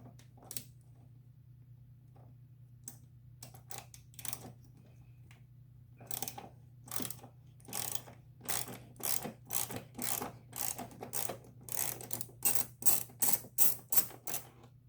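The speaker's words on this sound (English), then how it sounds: "Now we're going to loosen with a 6mm the seat bolt" Rapid clicking of a ratchet loosening a 6mm seat bolt on a late-model Honda Goldwing Tour motorcycle, sparse clicks at first, then a quickening, steady run of close, crisp ratchet strokes over a low hum.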